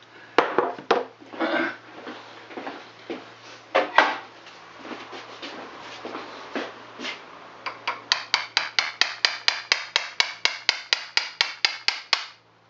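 A hammer taps lightly on a Yanmar 2GM18 marine engine raw water pump part, irregular at first and then settling into a fast, steady series of sharp metallic knocks, close by with no talking.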